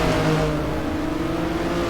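Race cars lapping the Hednesford track in the rFactor racing game, a loud steady engine whine droning on with no pause.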